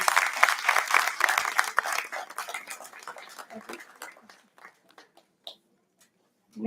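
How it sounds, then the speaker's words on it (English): Conference attendees at a heritage management event applaud a convener, brisk clapping from a crowd that gradually thins into a few scattered claps and then near silence. "May I please request for a huge round of applause for ma'am"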